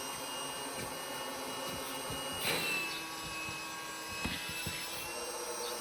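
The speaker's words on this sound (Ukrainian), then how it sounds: "Зараз вам накачаю, покажу, як на неї сідаємо." Electric pump steadily inflating an inflatable boat, a continuous motor drone holding at moderate level throughout, with a few faint knocks and handling noises on top.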